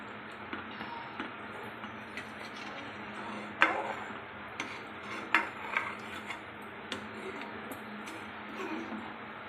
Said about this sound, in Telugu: మిల్క్ మేడ్ యాడ్ చేసుకున్న తర్వాత బాగా మిక్స్ చేసుకోవాలండి